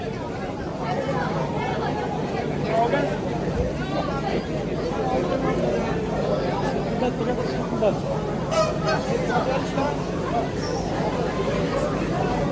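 Chickens and roosters squawk and cluck steadily amid a dense, busy poultry market hubbub of chatter and crowd noise in Nookat.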